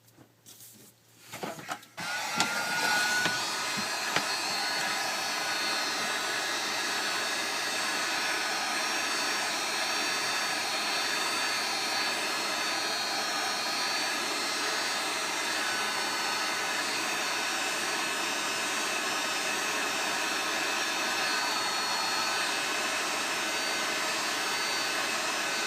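Heat gun blowing hot air onto the screen of a Samsung Galaxy S3, a steady close whooshing fan roar that starts after a few brief clicks and holds unchanged throughout.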